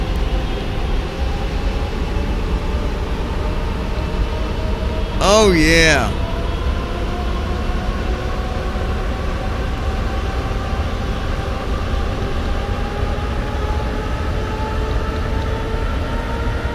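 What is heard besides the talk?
Boeing 747 jet engines during takeoff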